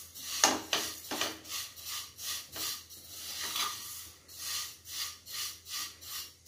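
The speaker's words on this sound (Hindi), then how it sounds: "मैं सेवैया को डाल दूंगी। अभी इसको अच्छी तरह मैं भून लूंगी।" Vermicelli being roasted in a kadhai, a spatula scraping and stirring in regular rhythmic strokes, close and fairly quiet, with no talking.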